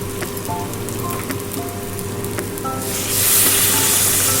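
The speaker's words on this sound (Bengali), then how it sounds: "এবারে দিয়ে দেবো ফুটন্ত গরম জল।" Pointed gourd korma sizzles steadily in the pan, then boiling hot water goes in and a louder, hissing surge of bubbling takes over near the end.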